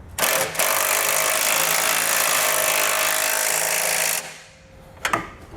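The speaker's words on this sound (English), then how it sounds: "We'll go ahead and snug up this cross bolt now." A ratcheting 18mm socket wrench snugs up a cross bolt on a Demco Classic base plate under a 2015 GMC Sierra 2500. A loud, close, continuous buzzing rattle runs for about four seconds, stops, then a couple of brief clicks follow.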